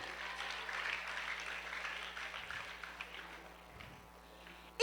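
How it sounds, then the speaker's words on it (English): An audience at an etiquette teaching session gives a soft, distant round of clapping, a faint steady patter that continues for several seconds before a sudden louder burst at the close. "A round of applause for 2 of them."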